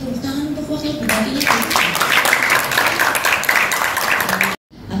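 A crowd at a public event claps for the deputy regent, a dense spread of applause that rises after a voice on the PA and continues for several seconds before stopping abruptly.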